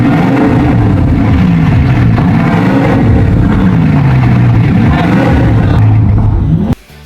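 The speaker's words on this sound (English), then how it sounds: "The engine roars to life." A rebuilt, previously wrecked Bugatti engine with a new exhaust roars loudly and continuously close by, its deep note rising and falling through revs before cutting off abruptly near the end.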